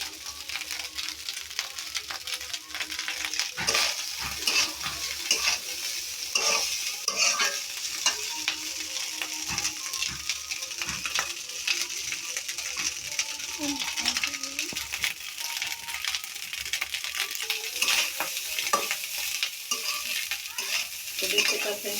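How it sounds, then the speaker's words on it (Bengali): Egg fried rice stirred and tossed in a pan over a steady sizzle, with repeated scraping and clicking strokes of the spatula running throughout at close range. "তো এটা আমি এখন মিক্স করে নিতেছি ফ্রাইড রাইসটা।"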